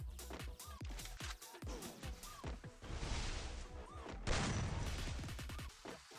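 Rapid bursts of gunfire from the mobile shooter Free Fire crackle in dense volleys, loud and close, with short gaps and a few heavier impacts among the shots.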